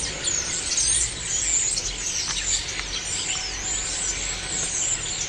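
A dense chorus of birds chirps and squeals loudly and continuously, high-pitched and shrill, with no pauses and no talking.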